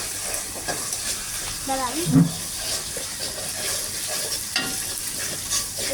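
Fried rice ingredients sizzle and spatter in a hot pan with a continuous crackling hiss and occasional scraping stirs, and someone speaks briefly over the frying.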